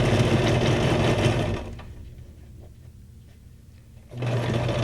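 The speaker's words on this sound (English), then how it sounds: "I love the sound of the sewing machine." A sewing machine whirs steadily, pauses for a couple of seconds of quiet, then starts stitching again, loud and close.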